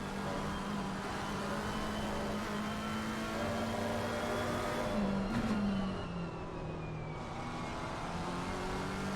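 Race cars at a Nürburgring winter endurance championship event, including a Lexus oversteering on corner exit, drone steadily with a strong engine note that swells as a car passes close by around the middle, then settles back to a continuous roar.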